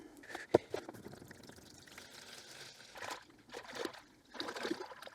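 CRC Evapo-Rust rust remover tipped from a brand-new bottle into a container, giving a soft, intermittent trickle and splash at close range with a few brief louder spatters, no voices.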